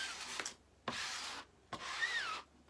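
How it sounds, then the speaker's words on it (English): A squeegee is pushed firmly across a surface to force out air bubbles, making three separate rubbing swipes, each a short scraping squeak, close and fairly quiet with short pauses between them. "I'm just using this squeegee to get the air out"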